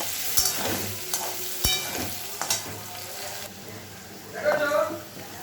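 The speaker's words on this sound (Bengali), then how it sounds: "ভালো করে একটু আলুটা ভেজে এটার মধ্যে চিংড়ি মাছটা দিয়ে দেবো" Potatoes with salt and turmeric frying in a pan, a steady close sizzle with occasional stirring knocks and scrapes against the pan.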